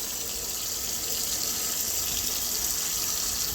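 Warm tap water runs steadily over a hydro-dipped deer skull during rinsing, a continuous close splashing stream with no voices.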